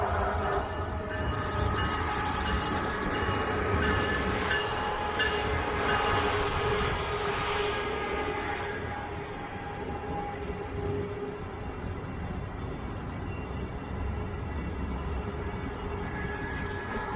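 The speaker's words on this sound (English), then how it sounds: "Here's a southbound Brightline train passing the station site." Southbound Brightline train moving slowly past a station construction site, a steady close rumble of wheels and cars rolling by that eases slightly partway through and continues evenly.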